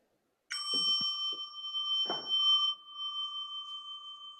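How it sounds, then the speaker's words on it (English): A bright electronic bell tone rings out after a brief silence, sustaining and slowly fading, with a few faint bumps and rustles near the start. "you will be hearing a bell like this."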